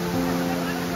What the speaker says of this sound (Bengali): আর তাতেই সৃষ্টি হচ্ছে এই উশ্রী জলপ্রপাত